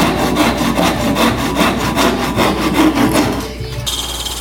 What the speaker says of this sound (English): I cut that notch with a miter saw and then finished it up with a Japanese pole saw.